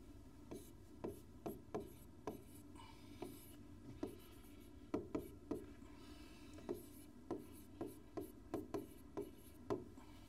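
Pen strokes scratch across paper in quick, irregular bursts, close and quiet, as a unit vector formula is written out, with short pauses between strokes and no voice.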